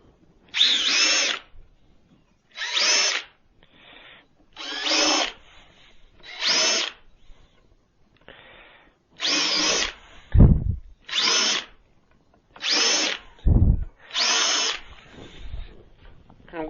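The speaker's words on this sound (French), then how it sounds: "Ça c'est une mèche pour permettre à la tête de la vis de rentrer dans le bois proprement." A power drill fitted with a countersink bit bores screw-head recesses into wooden planks for a vertical garden planter. Short loud whirring bursts repeat about every second and a half, each one alone, with a couple of low thuds between them.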